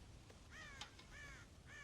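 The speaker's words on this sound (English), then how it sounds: "God damn crows!" Crows in the Red Dead Redemption video game give several faint, harsh caws in an uneven series, repeated over a soft background hiss.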